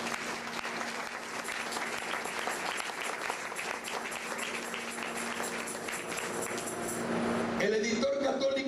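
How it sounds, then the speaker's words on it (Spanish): A church congregation claps steadily in praise during a sermon. The dense, continuous clapping lasts for several seconds and is partly mixed with a speaking voice. "A su nombre, dale palmas al Señor."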